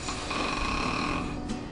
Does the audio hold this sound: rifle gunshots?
no